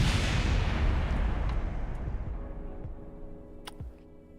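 A rocket exploding on launch in Kerbal Space Program with Realism Overhaul: a loud, booming blast rumble that gradually fades over several seconds, with a few faint ticks at the end.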